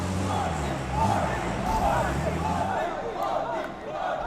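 Arena crowd at a PUBG Mobile World Cup esports event, a dense roaring cheer swelling and holding throughout, under a commentator's voice.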